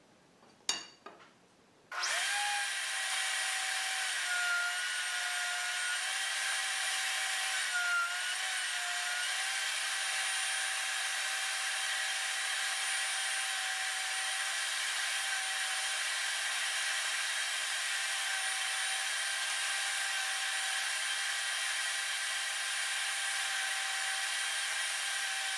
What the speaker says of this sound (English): until I cut a dado which is slightly deeper than the thickness of the T-channel material